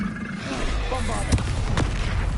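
Bombarda spell explosion in the video game Hogwarts Legacy, a dense booming blast with a couple of heavier thumps, heard under excited speech.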